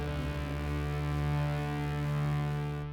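A deep, sustained wavetable synth bass drone with thick layered oscillators, slowly swelling and fading in level, steady and loud with no other sounds.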